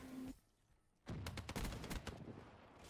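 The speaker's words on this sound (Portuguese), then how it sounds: "O cara me deu um tiro de sniper pra eu não esquecer nunca mais." Rapid bursts of gunfire in the video game Call of Duty: Black Ops 3 after a brief lull, loud and dense, with shots cracking over a noisy backdrop.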